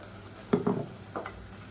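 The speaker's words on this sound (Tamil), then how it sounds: "சேர்த்துட்டு இதையும் பச்சை வாசனை போக ஒரு 2 நிமிஷம் வதக்கி விட்டுக்கலாம்" Ground paste is stirred and sautéed in a pan, with a few quiet scraping stirs and a soft sizzle in an otherwise hushed kitchen.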